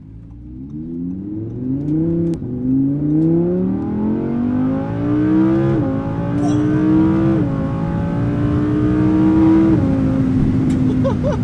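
Audi R8 V10 Plus engine revving hard through rising gears, its pitch climbing steadily with brief dips at each upshift, loud and close throughout with no talk over it.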